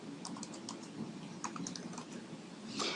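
Quick, light keystrokes on a computer keyboard, steady and close over a soft background hum, as information is entered into sign fields in software, with no one speaking.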